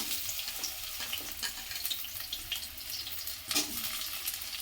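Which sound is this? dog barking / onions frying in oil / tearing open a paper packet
onions frying in oil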